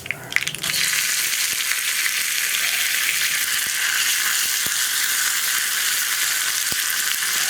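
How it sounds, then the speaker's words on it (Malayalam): Dried red chillies and curry leaves hitting hot coconut oil with mustard seeds for a pumpkin curry, an initial crackling burst settling into a steady close sizzle with scattered sharp pops, no voices. "നമുക്കിതിലേക്ക് ഇനി ചേർക്കേണ്ടത് ഒരു 3 വറ്റൽമുളകും കുറച്ച് കറിവേപ്പിലയും"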